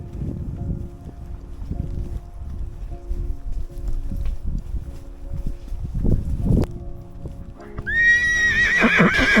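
Horses clip-clop along in a steady uneven walk close by, with soft rustling around them, before one horse lets out a loud, rising whinny near the end.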